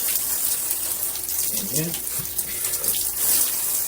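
A cold shower runs steadily throughout, a broad wash of spraying water close by, with a person talking briefly and breathing over it.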